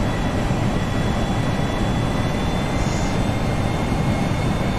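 Steady, loud jet engine drone of an Air Canada FSLabs Airbus A320 on approach in the Prepar3D v4.5 flight simulator, a constant broadband roar with a faint high whine, no voices.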